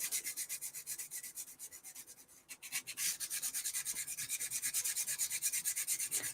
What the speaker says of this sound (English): as soon as you start sanding this surface